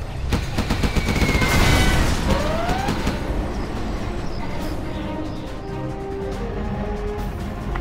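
Aircraft bombing run in the Command & Conquer Generals Zero Hour video game, a rapid, dense burst of explosive blasts and crackling impacts that peaks early and then trails off into rumbling debris and mechanical noise.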